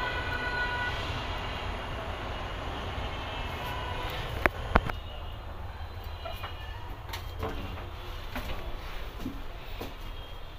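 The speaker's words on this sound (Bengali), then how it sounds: "একটা ইঞ্জিন দেখা যায় রেল স্টেশনের যে ইঞ্জিন কক্ষ আছে" A railway engine at Khulna railway station gives a steady, loud rumble, with a few sharp metallic clicks and clanks partway through and no one talking.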